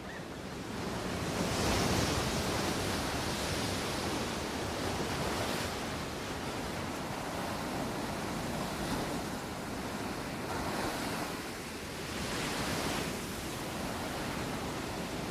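Sea waves breaking on a wild Scandinavian coast, a broad continuous rush of surf that swells and eases in slow surges, with wind mixed in and no voices.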